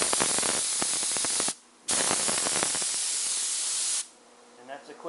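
A spray gun lays waterborne base coat on a Mustang, loud close hissing bursts with a short break in between, then ending in quieter shop noise.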